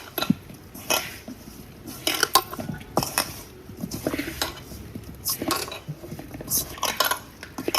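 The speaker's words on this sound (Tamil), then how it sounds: "நல்லா வந்துட்டு கிளறி விட்டுக்கிறோம்" Fish roe being mixed with masala in a bowl, producing repeated clinks and wet scraping of a spoon against the dish in an irregular rhythm, close and fairly clear.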